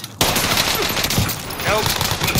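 Rapid automatic gunfire from a Call of Duty battle royale match rattles on loudly and almost continuously, with a voice faintly audible under the shooting.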